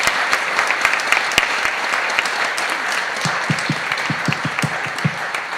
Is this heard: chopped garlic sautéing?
no